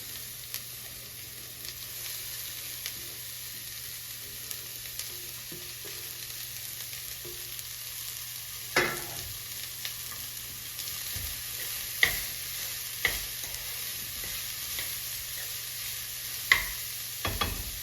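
Cauliflower fries on a high gas flame for gobhi parathas in a steady, moderately loud sizzle, broken by occasional sharp clicks and scrapes of stirring.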